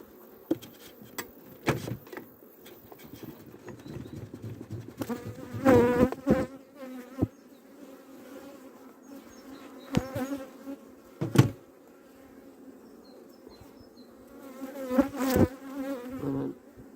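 Honeybees buzz close by in an open hive with a low steady drone, louder surges as some fly near, plus occasional clicks and knocks of handling frames during a split-hive check.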